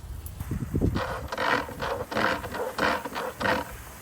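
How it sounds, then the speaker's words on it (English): A hand pump sprayer being pumped outdoors in a garden: a series of rhythmic mechanical strokes with rattling, squeaking clicks, about six pumps close by, with no talk. "gonna try out the pump sprayer"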